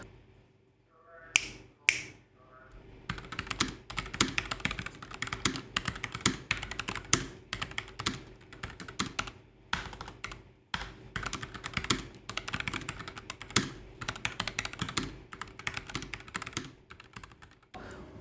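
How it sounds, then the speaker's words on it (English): Fast, continuous typing on a Nuphy Air 75 low-profile mechanical keyboard with linear red switches, crisp clacks in quick uneven bursts, close up, after a couple of sharp snaps at the start. "the switch that I've been using all this while is the red switch, which is meant to be linear and quiet"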